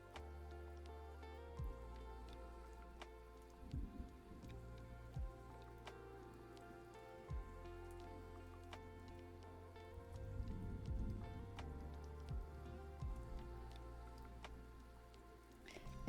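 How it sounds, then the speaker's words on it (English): Steady rain patters on a surface throughout, a continuous soft wash of drops layered under calm background music with sustained low tones. "but like rain sounds going on."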